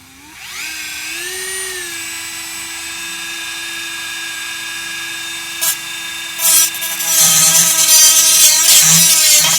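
A power cutting tool works inside the door of a 2013 Dodge Dart during a Kicker speaker install: a high motor whine spins up and holds steady, then harsher grinding bursts break in toward the end, with no talking.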